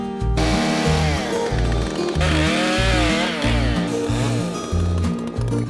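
A chainsaw cutting wood with a chain sharpened by a new method, running loud and close the whole time, its engine pitch rising and falling as it bites into the cut.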